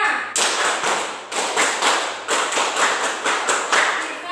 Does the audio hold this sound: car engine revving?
no